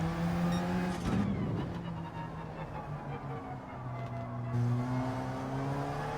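Race car engine in Gran Turismo 7 on the Eiger Nordwand circuit, braking downhill and downshifting into second then first gear, a loud steady engine drone with pitch drops and blips at each shift, heard alone.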